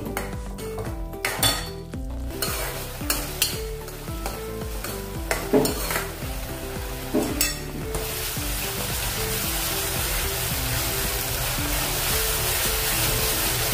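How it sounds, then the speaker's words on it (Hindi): Masala for an aloo soyabean vadi dum veg biryani is stir-fried in a pan, with sharp metal spoon scrapes and knocks over a steady sizzle that rises into a continuous loud hiss toward the end. "मसाले को अच्छे से भी भून लेंगे"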